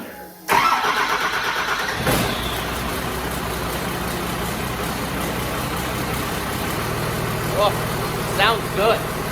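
A hunting rig's newly swapped engine cranks and catches, then settles into a rough, steady idle close by, with a couple of brief revs near the end.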